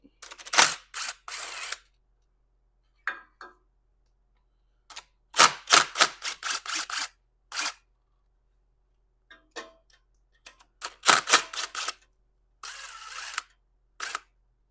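Bolts are loosened on the valve body of a Ford 6R80 automatic transmission, a sharp ratcheting in quick bursts of clicks separated by short silences. The sound is close and crisp.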